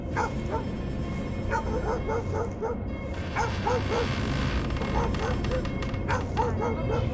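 A German Shepherd barks and yips repeatedly in a video game, steady short bursts over a busy game soundtrack with someone talking in places.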